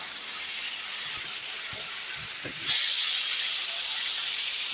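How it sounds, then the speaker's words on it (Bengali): Cumin seeds tempering in hot oil, a constant loud hissing sizzle that swells brighter midway and holds, with no voices. "এগুলো সুন্দর করে ভেজে নেব। জিরা ফোড়ন দিয়েছি,"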